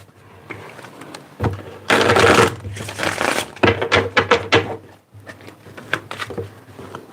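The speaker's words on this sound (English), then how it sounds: "Let's get 3 more shuffles here." A deck of tarot cards is shuffled close by, with rapid riffling and patter in uneven bursts, a long dense stretch in the middle, then several short flicks, and no speech.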